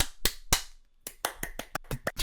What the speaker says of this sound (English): Let's all clap for him.